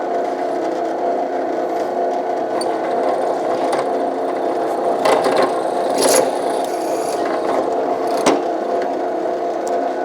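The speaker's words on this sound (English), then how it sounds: "There you can see I've drilled a hole clear through there." A power drill bores a hole clean through a broken hammer in a carpenter's shop, giving a steady whirring drone with a few sharp bumps and clicks as the bit bites, close up and with no talking.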